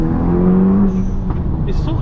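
A 400bhp VW Scirocco R turbo engine accelerates, heard from inside the car as a loud, rising droning tone with road noise, while people talk over it.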